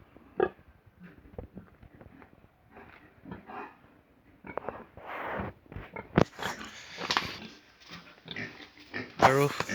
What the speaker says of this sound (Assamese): ইয়াত এজনী লাৰ্জ ব্লেক মাইকী গাহৰি আছে।